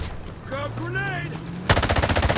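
Gunfire in the mobile shooter Delta Force Mobile: a voice speaks over a faint rattle, then a dense burst of rapid automatic fire erupts loudly and keeps going.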